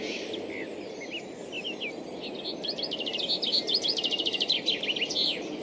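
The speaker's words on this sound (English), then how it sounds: "That is a chaffinch." A chaffinch sings in a spring park, a rapid descending trill of bright chirps repeated near the end, over a steady low background hum with other faint birdsong earlier.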